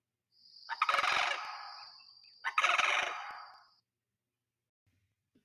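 A sandhill crane, the North American migratory bird, calls twice in loud, rolling, rattling bursts, each lasting over a second with a brief pause between, then silence.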